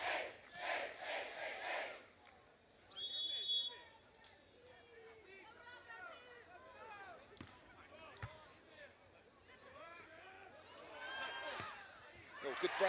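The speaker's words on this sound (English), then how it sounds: "All the boos and whistles ringing out for Dalhausser's serve" Arena crowd at a beach volleyball Grand Slam final in Sao Paulo booing and whistling at a serve, a sustained roar of voices with shrill whistles rising and falling, loud and continuous throughout.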